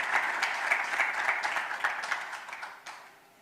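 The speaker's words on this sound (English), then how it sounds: "A round of applause as he comes." An audience at an insurtech program panel gives a round of applause as a panelist walks to the stage, a full, steady clapping that gradually tapers off toward the end.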